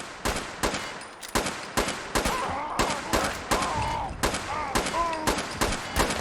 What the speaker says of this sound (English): you heard me shooting, idiot